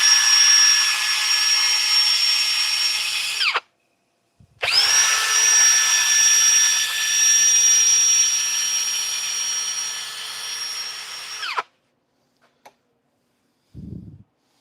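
A wood lathe spins up with a high whine while a turned piece is sanded to remove a mark, running loud and steady, cutting off, restarting, then stopping, followed by a few faint knocks.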